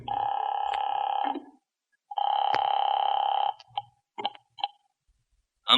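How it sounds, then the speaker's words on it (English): A telephone number being dialed, heard as two long steady tones followed by a series of short sharp clicks and bleeps, then silence. "Calling that number."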